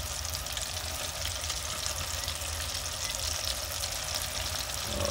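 Chain pickerel fillets fry hot in a pan with a steady, loud, dense sizzle that holds unbroken throughout, with no voices.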